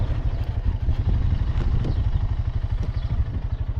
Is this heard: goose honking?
no